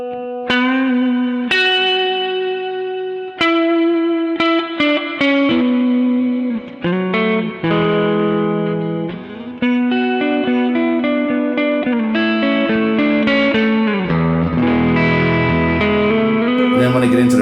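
Electric guitar through a NUX Cerberus pedal into a big external spring reverb, a continuous loud melodic passage of sustained distorted notes, chords and bends washing into a lingering reverberant tail, with no voices.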